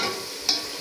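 Diced potatoes, tomatoes and green chillies sizzle in a pan for biryani, a soft steady frying hiss with one brief scrape of stirring.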